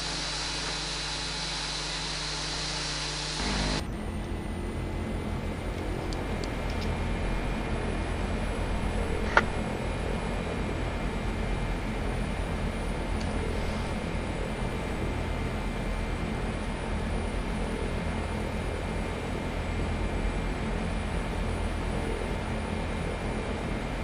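Beechcraft 1900 turboprop engines during takeoff and climb on a life guard flight, heard from inside as a loud, steady broadband roar that holds constant throughout, with no talk.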